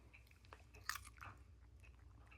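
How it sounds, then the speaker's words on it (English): A dog bites into a raw carrot, a few sharp crunchy snaps and chewing sounds, close but quiet against a low background hum. "I don't know if I've ever seen you chew a carrot"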